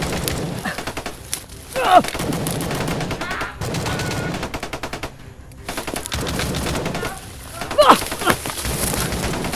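Rapid bursts of automatic gunfire crackle repeatedly in a game soundscape, with sharp shots and rattling volleys coming and going over several seconds.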